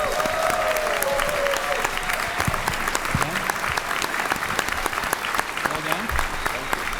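Audience applause for the candidates at the 2022 Conservative Party of Canada leadership debate, a steady, even round of clapping filling the hall for several seconds, loud and continuous with a few faint voices underneath.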